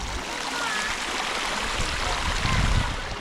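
Hot spring water in Turkey flowing and splashing in a steady broadband rush, close and continuous, with a brief louder splash near the end.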